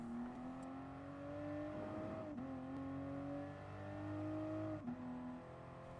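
A GR Supra race car in Gran Turismo Sport builds speed through a turn, its engine note rising steadily in a loud, continuous drone, dipping briefly at two gear shifts before climbing again.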